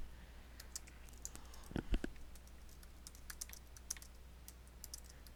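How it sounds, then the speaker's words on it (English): Typing on a computer keyboard, a run of light, irregular key clicks with a few louder thumps, close and fairly quiet over a faint steady hum, no talking. "I'm going to type implant print shop"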